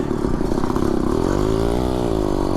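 A motorized bicycle engine drones loud and close, its pitch climbing and bending as it revs against a slipping, burning clutch, steady and unbroken throughout.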